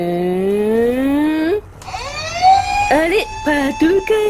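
A police car siren in an animated children's cartoon wails in rising and falling sweeps, loud and up front, then breaks into shorter whoops with chirpy cartoon effects.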